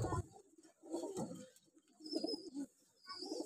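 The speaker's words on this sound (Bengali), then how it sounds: "এগুলা সব উড়াল কবুতর, এই সিজনের উড়াল কবুতর এগুলা।" Flying pigeons of this season on a rooftop coo in soft, low bursts, three or four close rounds of murmuring calls separated by quiet gaps, with faint chirps in the background.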